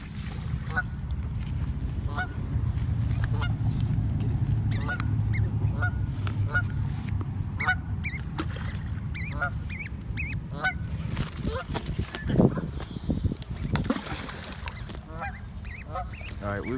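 A baby goose at a pond calls again and again in short, high, thin honks and peeps, close by, over a low background rumble.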